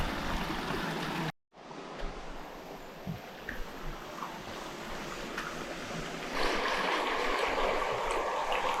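Cold mountain stream water flows steadily through the Lasuban gorge near Sreemangal, a broad continuous rush that drops out briefly near the start, then returns and swells louder toward the end.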